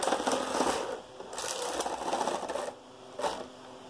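A Knittax/KnitKing domestic knitting machine carriage runs across the needle bed knitting plain rows of a cotton dishcloth. Each pass is a close, steady, rattling whir, broken by short pauses between strokes.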